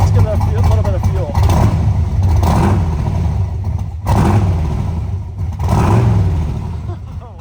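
Restored 1966 Corvette coupe with a 355 cubic inch V8 and side pipes, revved repeatedly from idle in loud, close bursts with a rough rumbling exhaust.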